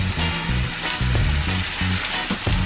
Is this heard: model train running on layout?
no